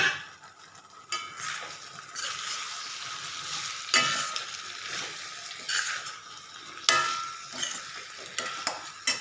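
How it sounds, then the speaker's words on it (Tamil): Boiled potatoes and jackfruit seeds are tossed into frying masala for a spicy dry fish curry, with a bright steady sizzle and several scraping stirs and clanks of a spoon against the pan, close and without talk. "இப்போ நம்ம வேக வச்ச உருளைக்கிழங்கும் பலாக்கொட்டையும் போட்டுடலாம்."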